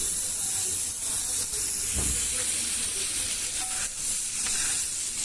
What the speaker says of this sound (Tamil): இப்போ நம்ம சௌ காய் வந்து நல்லா பொடிசாக வெட்டிட்டு இப்போ வதக்க ஆரம்பித்தாச்சு.